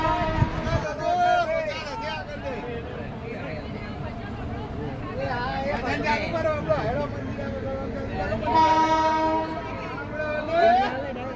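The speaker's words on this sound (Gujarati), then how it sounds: "આપણી ટ્રેન ઉપડી ગઈ છે, જોઈ શકો છો મિત્રો." Train rumble and rattle as a crowded train pulls out of the station for Ramdevra, with a horn or whistle sounding and passengers chattering loudly throughout.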